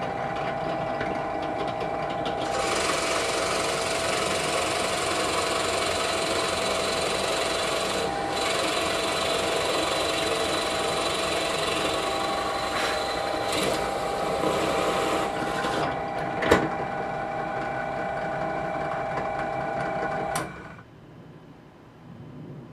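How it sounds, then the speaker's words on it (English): Drill press boring through wood with a 1-inch Forstner bit, a steady motor whine and rasping cut running for about twenty seconds with small bumps in tone, then spinning down, no voices. "I'm using a 1-inch Forstner bit in the drill press to drill this hole through the smaller piece of this 2-piece brain teaser."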